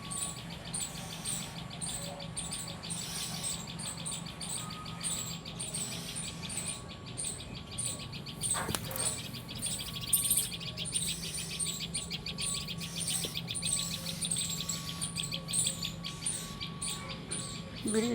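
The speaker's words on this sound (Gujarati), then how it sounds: "બિલાડી આવે તો ચકલા બોલે ચી ચી ચી ચી ચી." Sparrows chirp and twitter continuously in a busy household setting, a steady layer of small bird calls mixed with faint background voices and domestic noise throughout.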